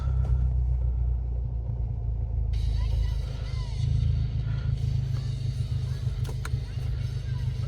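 A modified 250bhp car engine turns over and settles into a steady idle, a constant close low rumble, with a voice talking partway through.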